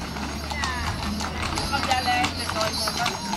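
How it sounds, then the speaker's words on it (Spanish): Many horses arrive at the San Pedro romería procession in Busquístar, their hooves clip-clopping faintly in an uneven patter beneath nearby crowd voices and talk. "Aquí llegan los caballos. Muchos caballos, muchos caballos."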